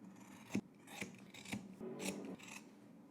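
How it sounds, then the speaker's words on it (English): Scissors trimming the seam corners of sewn fabric for a Simplicity 3168 jacket and cape, heard as five or six short close rasping snips spaced about half a second apart, with no talking. "let's go ahead and trim our corners."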